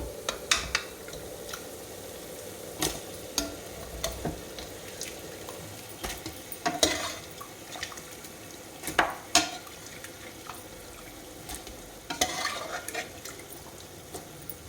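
Pressure-cooked mutton is stirred into a frying tomato masala for Dindigul mutton biriyani, giving a steady close sizzle with scattered scraping and clinking strokes and no voices.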